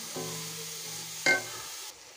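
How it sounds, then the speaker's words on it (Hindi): Chopped onions fry in a pan for Irani chicken karahi with a steady, close sizzle. One brief louder crackle occurs as they are stirred, and no one speaks. "प्याज हमारा फ्राई हो रहा है।"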